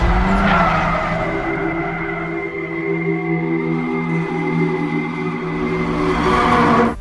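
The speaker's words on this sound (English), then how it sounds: "Watching these hot rods drift their way down mountain roads is pretty impressive" Drifting cars from Tokyo Drift, tires squealing in long sustained howls over engine drone, loud and continuous for several seconds before cutting off abruptly.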